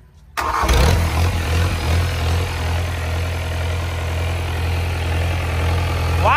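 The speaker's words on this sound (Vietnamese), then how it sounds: "Kubota V3800, động cơ máy Nhật nhá. Nổ đi em ơi." A Kubota V3800 Japanese diesel engine, 105 PS with a 95 mm bore, cranks briefly and fires, then settles into a loud, steady, rumbling run that continues without pause.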